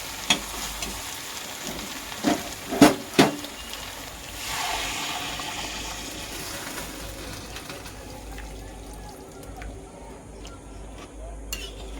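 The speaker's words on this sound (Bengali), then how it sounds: "এবার এতে গরম জল দিয়ে নেব।" Hot water is poured into turtle meat curry in a hot pan. A few clinks of utensils are followed by a sudden broad hiss as the water hits the pan, then a softer sizzle that slowly settles.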